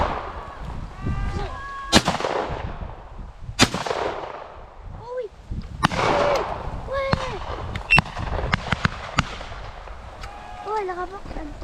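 Shotgun blasts at partridges on a driven hunt: several sharp, loud reports spaced a few seconds apart, with bird calls and shuffling between shots.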